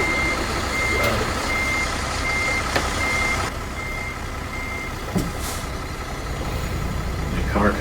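Reversing beeps from a truck in American Truck Simulator, a steady repeating alarm over an idling engine rumble, with a sharp air-brake hiss near the end.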